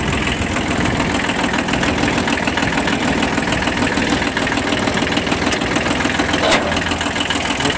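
Close, loud Kubota B1200 mini tractor engine idling at an even pace in freezing weather, a constant throbbing diesel rumble with a brief metallic click near the end.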